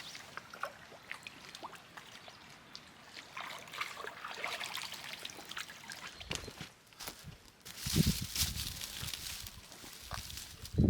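Water trickles and splashes through a squeezed filter bag outdoors at a wilderness camp, soft uneven dribbling that builds into a louder, steadier gush near the end.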